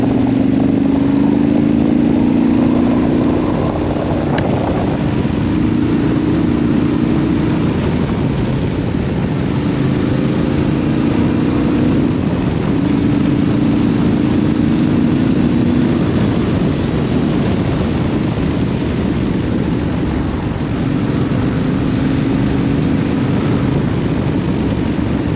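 A Yamaha Tenere 700 Rally motorcycle engine pulling in sixth gear at about 60 km/h, a steady low drone that rises and falls in pitch under heavy wind rush, continuous and close.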